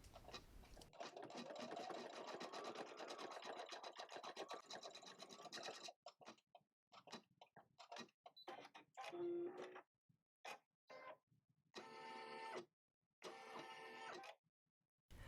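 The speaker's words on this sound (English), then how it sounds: "It stitches a nice underlayment stitch followed by a really pretty satin stitch." An embroidery machine stitching a satin stitch flower, fast rapid needle chatter running steadily at first, then breaking into short bursts separated by pauses.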